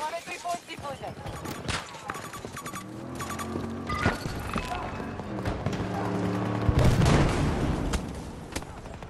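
Gunfire in the video game Battlefield 2042, bursts of shots mixed with game effects and music-like tones, with talk over much of it.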